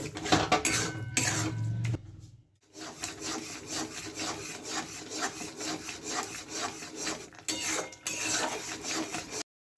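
Chhena stirred with date palm jaggery in a pot, a spoon scraping and rubbing rhythmically against the metal in repeated strokes, close and clear, with a brief pause partway through.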